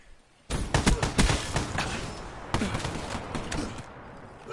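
Rapid bursts of gunfire from a video game shooter, several sharp shots in quick succession starting abruptly, then a denser, slightly quieter volley with no voices.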